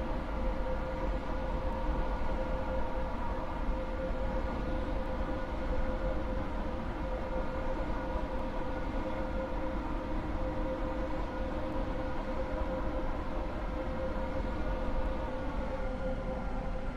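A train runs in the Roblox game SCR (Stepford County Railway), a steady, even motor drone and rolling hum with a faint tonal whine held throughout, no voices.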